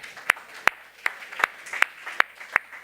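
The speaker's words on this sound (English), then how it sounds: "So maybe please join me in applauding the two of you." Scattered, sharp individual claps from an audience at a financial-policy launch event, about seven separate claps spaced irregularly over a few seconds, fairly faint and without voices.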